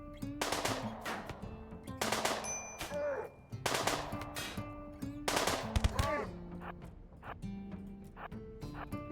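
Bursts of machine pistol fire from RimWorld come in several loud, separate volleys over game sound effects, with short gaps between them.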